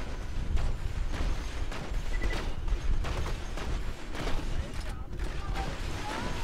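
Gunfire from a gun in the video game Borderlands 2 comes as repeated dense bursts mixed with game noise, continuous and fairly loud across several seconds, with a voice talking over it.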